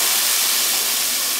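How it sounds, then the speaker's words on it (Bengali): Water tinted with food colour hits hot fried vermicelli in a pan and bursts into a loud, continuous hissing sizzle, close and steady throughout. "এবার আমি পানিটা দিয়ে দেব।"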